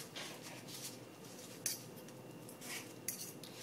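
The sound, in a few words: knife cutting up a veggie sausage patty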